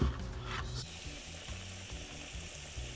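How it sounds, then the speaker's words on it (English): Plantain slices for tostones sizzle steadily in hot oil, a dense hiss that runs close and loud throughout, with low clunks and rumbles of the pan underneath. "And we're going to fry them."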